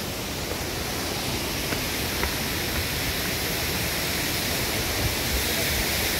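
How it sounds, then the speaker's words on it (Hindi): A waterfall in the hills of Uttarakhand, near where the roads to Neelkanth and Yamkeshwar split, gives off a loud, steady rushing roar of falling water with no break and no voices. "ये रहा झरना सामने।"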